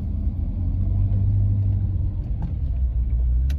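A Ferrari Portofino on the road gives a steady, loud, deep engine rumble with a brief rise in revs near the end, with no talk.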